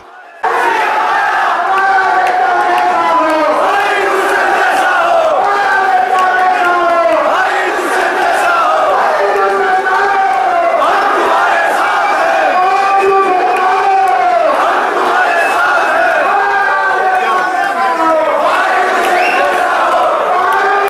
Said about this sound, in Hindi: कार्यकर्ताओं ने लगाए दुष्यंत चौटाला जिंदाबाद के नारे